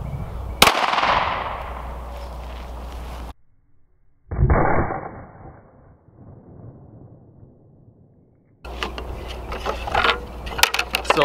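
A Glock 19X handgun fires one loud, sharp shot at a carbon fiber target outdoors, followed by a lingering echo. Another short burst of noise comes a few seconds later.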